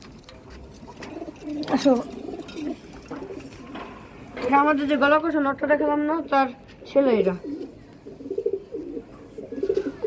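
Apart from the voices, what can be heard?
pigeons cooing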